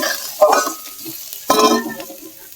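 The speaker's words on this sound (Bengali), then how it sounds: "পেঁয়াজটা একটু হালকা ভাজা হবে।" Onions lightly frying in a pan for a Bengali fish chop recipe, with two distinct stirring scrapes amid a steady close sizzle and no talking.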